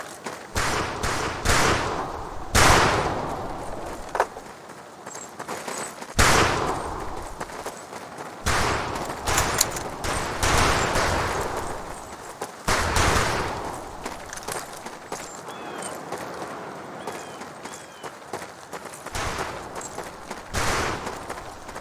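Heavier weapons fire on a shooting range in the World War II game Medal of Honor Pacific Assault, with loud bursts and single booming shots spaced out in irregular clusters, each ringing off briefly.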